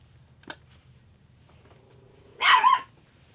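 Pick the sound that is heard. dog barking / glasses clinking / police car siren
dog barking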